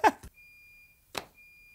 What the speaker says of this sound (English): What is that beeping?